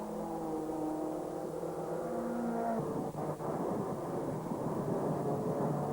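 Race cars lap a British circuit at a 1997 meeting, rounding corners such as Club and Abbey, their engines a loud continuous roar whose pitch shifts abruptly partway through as the cars pass.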